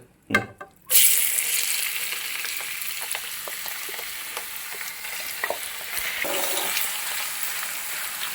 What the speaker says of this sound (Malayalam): എണ്ണ നന്നായിട്ട് തിളച്ച് വരുമ്പോൾ ഇതിനകത്തോട്ട് നമ്മൾ ചെമ്മീൻ ഇട്ട് കൊടുക്കും എന്നിട്ട് നന്നായിട്ട് വറക്കും